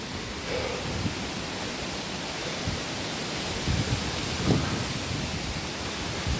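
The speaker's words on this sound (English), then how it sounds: "Just going to hear the sound of wind." Steady wind roars on a damp, wet hiking trail on the Elwell Trail toward Sugarloaf, a broad continuous rush with a few soft bumps and no voices.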